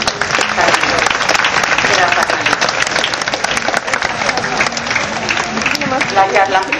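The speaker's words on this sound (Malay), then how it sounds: "sekali lagi berikan satu tepukan" Audience applause for a speaker at a 2009 self-confidence talk, loud sustained clapping filling the whole stretch, with a voice speaking over it.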